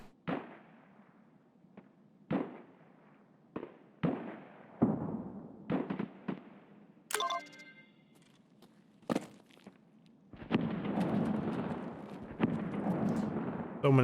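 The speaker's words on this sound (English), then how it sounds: "So many explosions." Explosions in the Escape from Tarkov video game, a series of sharp booming blasts scattered over the stretch, followed by a sustained rumbling roar toward the end, with no talk.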